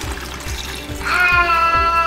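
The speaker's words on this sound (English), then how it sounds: "We're gonna get some of the fish's old water and put it into a bag." Old fish tank water poured into a plastic bag gives a close, steady trickling splash that swells in the second half over a low repeating hum.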